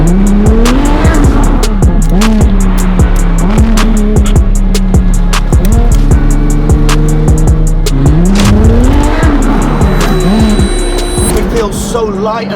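A Ferrari LaFerrari supercar accelerates hard on a road in Dubai. The loud engine revs climb repeatedly with gear changes, heard from inside the car with excited voices over it.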